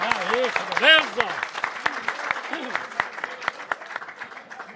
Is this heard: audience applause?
yes